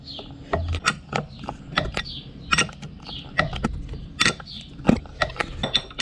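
A Harvestore silo unloader runs long-armed, giving off irregular metallic clanks, rattles and ratcheting clicks over a steady low mechanical rumble, fairly close and without speech.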